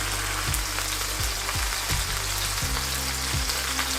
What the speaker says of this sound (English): Don't be afraid of it spitting a little bit of oil.